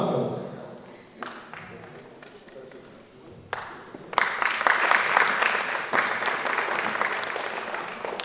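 An audience at a poetry mushaira felicitation event claps in welcome as a guest is called to the stage, starting sparse and swelling into dense, loud applause, with voices speaking throughout.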